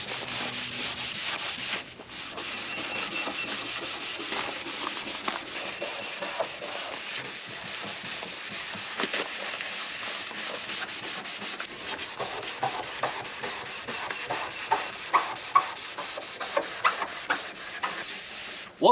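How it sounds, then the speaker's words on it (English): A Scotch-Brite pad scrubs the checked, oxidized old paint of a barn-find Dodge Monaco, a dry, rasping rub of irregular strokes that grow sharper and more clipped toward the end, close by. "by far the best way to get it cleaned up is to use Scotch-Brite"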